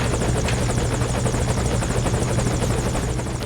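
A helicopter in the Metal Gear Solid V video game drones close and loud throughout, its rotor beating in a steady, rapid rhythm with no pause.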